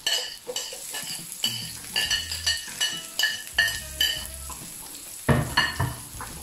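Olive oil sizzles in a pot while cocido madrileño cooks, a steady frying hiss broken by repeated scraping and clinking strokes of a utensil stirring against the metal.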